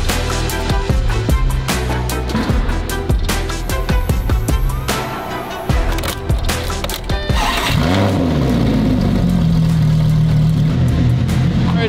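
A Porsche 996 Turbo engine runs loud and close, revving in bursts before settling into a strong, steady drone with a rising and falling pitch.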